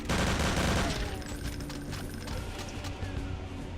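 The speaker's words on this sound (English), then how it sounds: "I think it was a submachine gun" Rapid submachine gun fire from the Brutal Doom first-person shooter, a loud continuous burst of gunshots with overlapping echoes filling the whole stretch, no talking.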